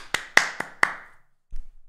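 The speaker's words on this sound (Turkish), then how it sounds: "Buradan alkışla görmem lazım." Claps in the PUBG video game: four sharp, evenly spaced hand claps, close and crisp, each with a short ringing tail, followed by a brief soft thump after a pause.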